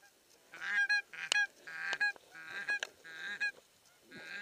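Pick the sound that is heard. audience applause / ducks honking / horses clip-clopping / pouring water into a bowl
ducks honking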